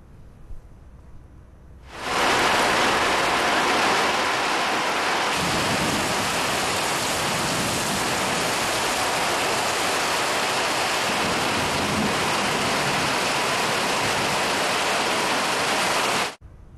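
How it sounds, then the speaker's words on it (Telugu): Heavy rain in Hyderabad pours down in a dense, steady roar that starts abruptly, holds loud and unbroken for about fourteen seconds, then cuts off, with no voices. "రాత్రి నుంచి ఇటు హైదరాబాద్లో పలు చోట్ల వర్షం దంచుకొట్టింది"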